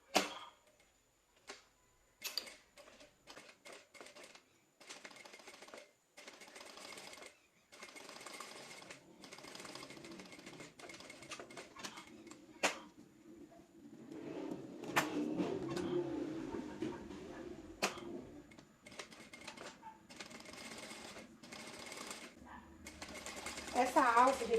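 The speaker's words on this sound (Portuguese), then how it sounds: "agora eu vou passar uma costura aqui dos dois lados do comprimento" Sewing machine stitching a topstitch seam close to the edge along both long sides of a fabric strap, with a backstitch at each end; short motor bursts build into longer runs of steady stitching, mid-distance and fairly clear.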